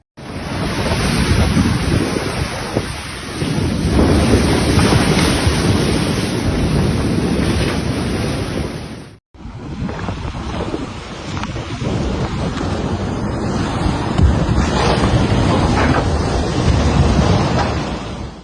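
Storm-driven surf and wind from Tropical Storm Cristina battering the coast at San Juan del Sur, Nicaragua: a continuous loud roar of crashing waves and gusting wind noise buffeting the microphone, with a brief cut partway through, no voices.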